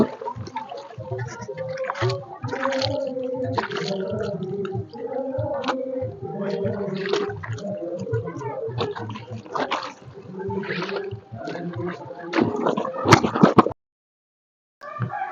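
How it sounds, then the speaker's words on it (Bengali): A uniform shirt and pants scrubbed and sloshed by hand in a tub of clean water, with continuous close splashing, swishing and squelching of wet cloth, then a sudden cut to silence near the end. "আরও একবার জল নিচ্ছি বন্ধু এটা দ্বিতীয়বার জল নেওয়া হয়েছে একই রকমভাবে ইউনিফর্ম আর প্যান্ট আবার ধুয়ে নেব"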